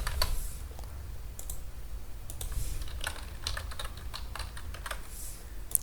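Keys clatter on a computer keyboard in irregular bursts of clicks, with a faint low hum beneath and no voices.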